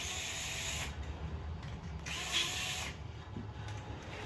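A power tool drives screws to secure a chassis brace, with several close, loud bursts of whirring separated by short pauses.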